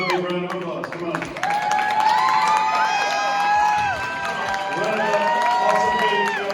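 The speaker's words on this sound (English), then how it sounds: "The runner-up tonight, let's give a big round of applause, come on." Audience applause and cheering for the runner-up team at a cooking competition event, with clapping, whoops and shouts from a lively crowd, plus a voice heard briefly over the noise.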